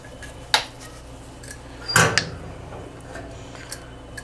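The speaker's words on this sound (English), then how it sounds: "I'm gonna mix this all around." Brown sugar, white sugar and cinnamon are stirred together in a bowl for tiny apple pies, giving a few sharp clinks of a spoon against the bowl with quiet scraping between them, close and otherwise silent.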